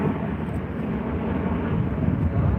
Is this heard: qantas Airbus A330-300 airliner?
yes